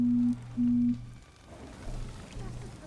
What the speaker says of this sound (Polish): Kurczę, dzwonią do mnie telefonami